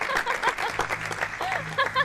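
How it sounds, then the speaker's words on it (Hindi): A studio audience on a television comedy show claps, a brief ragged burst of applause with a few voices and light laughter mixed in underneath. "यार भाई खड़े होकर तालियां बजाओ उसके लिए।"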